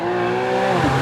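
A 2012 Porsche 911 (991) in sport mode with its exhaust opened revs high and loud, a sustained, rising engine wail with a slight tire squeal near the end, all within about a second.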